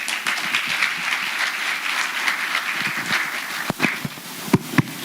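Audience at a health insurance conversation event applauding their captain, a dense wash of clapping with a few sharp louder claps standing out toward the end.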